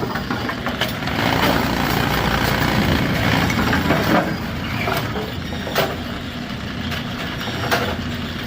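Gearbox clutch of a Brunswick A2 bowling pinsetter running loud and close, a dense rumbling mechanical drone with rattling vibration and sharp periodic clanks spaced a second or so apart.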